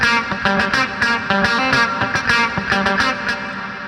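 A distorted electric guitar riff loops in rhythmic chugging bursts, drenched in heavy reverb that smears each hit into the next, loud and alone with no talk.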